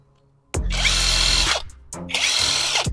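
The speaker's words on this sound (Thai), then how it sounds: "ผมจะทดสอบโดยโหมด ขันออกแบบ 2 โหมดนะครับ ก็คือโหมดแรกยิงยาวแบบนี้เลย" A cordless brushless impact wrench with a 10 Ah battery runs in continuous loosening mode: two loud, close hammering bursts, the first about a second long, then a short pause before the second.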